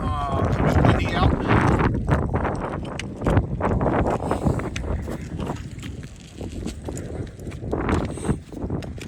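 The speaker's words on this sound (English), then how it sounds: "It's windy out." Wind gusts buffet the microphone outdoors on a sunny January day beside a house roof. The roar is loud and rough and keeps rising and falling, while a person speaks through much of it.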